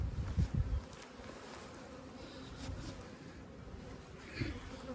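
Honeybees at a homemade four-frame hive in early spring, a faint steady buzzing with occasional louder bees passing close, under low rustling handling noise.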